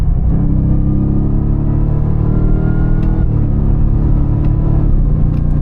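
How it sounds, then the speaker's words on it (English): A Ford F-150 Raptor R truck accelerates hard on the road, its engine a loud, close, deep rumble that climbs steadily, with quick gear shifts briefly interrupting the rising pitch. "You hear those shifts, but you do not feel them at all, and they happen very fast."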